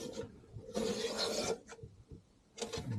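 A hand plane shaves a bamboo cane strip held in a planing form, giving close, raspy scraping strokes: a short stroke, a long stroke, a quick one, then another after a pause.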